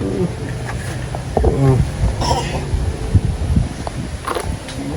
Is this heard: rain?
no